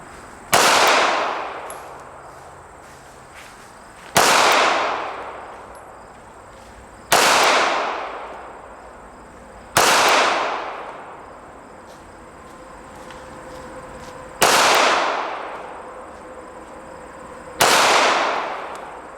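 Six sharp, loud pistol reports from a small Ruger LCP II .380, spaced a few seconds apart at 7 yards on a range, each with a ringing decay.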